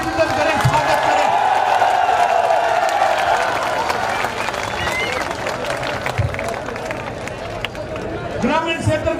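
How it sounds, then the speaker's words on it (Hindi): Crowd applauding Rajasthan Chief Minister Ashok Gehlot at an outdoor rally in Nawa, loud sustained clapping and crowd noise mixed with a voice over a loudspeaker. "राजस्थान के मुख्यमंत्री अशोक गहलोत जी के समर्थन में जोरदार तालियां बजाकर उनका अभिनंदन करें, स्वागत करें।"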